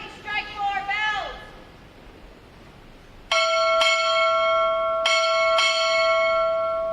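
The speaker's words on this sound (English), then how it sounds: "Time, orderly, strike floor bells." Floor bells ring in sharp, bright double strikes for the arrival of the official party at a Navy Recruit Training Command graduation, and a brief spoken command comes first.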